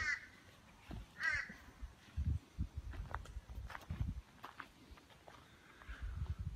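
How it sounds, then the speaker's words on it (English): A crow caws a couple of times, faint and distant, at the Lynd Junction on top of the Great Dividing Range, with quiet footsteps and small rustles close by. "That's about all you'll hear here is a bloody old crow."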